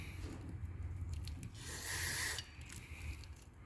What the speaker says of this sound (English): Hit it with a little bit of brake parts clean.